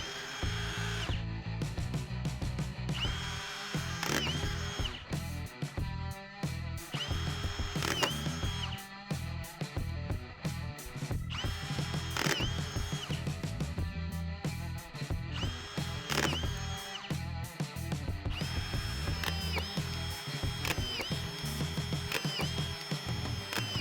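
A Hilti Nuron SD 5000-22 cordless drywall screwdriver drives a run of screws, first fed by hand and then through an auto-feed magazine. Repeated close, loud whining bursts of the motor start and stop, quickening into a steady rhythm toward the end, with no talking.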